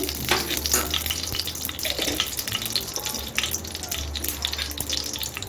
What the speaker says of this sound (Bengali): এখন আমি চা চামচে এক চামচ ঘি দিয়ে নিচ্ছি ঘিটাকে আমি গলিয়ে নিচ্ছি